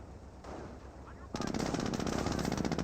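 Gunfire from units in Company of Heroes 1, with Panzer Elite and US forces firing on a garrisoned unit: a dense, continuous rattle of machine-gun bursts that swells suddenly and keeps pounding loud and near.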